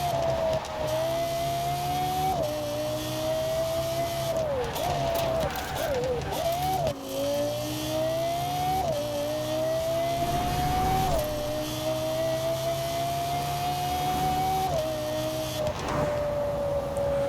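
A racing car engine in Forza Horizon 4 drones steadily and revs up through repeated gear shifts, with brief crackling exhaust pops at a few points along the way.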